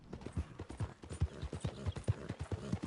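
Horse hooves clip-clopping in Red Dead Redemption 2, a steady, rhythmic run of close, dull thuds at a walking pace, heard alone without talk.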